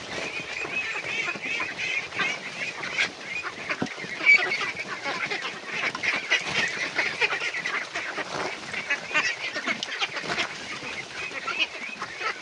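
Flock of domestic ducks quacking constantly, many overlapping nasal calls forming a busy chorus at moderate distance, with faint human voices mixed in.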